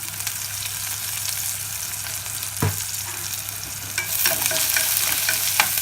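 Garlic and onions frying in a pan with a little salt, a steady close sizzle under scraping stirs, one sharp clack midway and busier stirring toward the end, with no voices.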